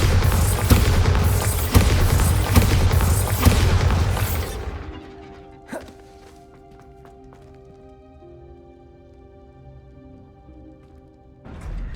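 Bombarda explosion spell in the video game Hogwarts Legacy, a loud dense rumbling blast lasting several seconds that dies away into quiet game music, with a brief thump afterward.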